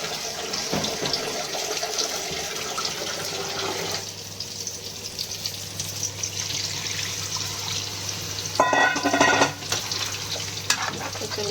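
Fish sizzling in a hot pan, a steady crackling hiss with bursts of louder spitting and splashing partway through.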